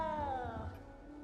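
A small frightened cat meows once in Hogwarts Legacy, a short, clear, slightly falling cry that fades out under a low background hum.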